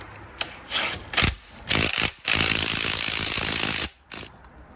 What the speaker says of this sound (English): this thing is torqued to a very specific torque rating of 180 foot-pounds